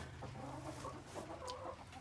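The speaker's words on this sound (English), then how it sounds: "I already have some chickens in here." Chickens cluck softly in a coop during spring, low quiet murmuring and a few short calls close by.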